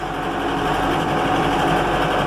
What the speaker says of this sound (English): Take the tractor out for a little spin.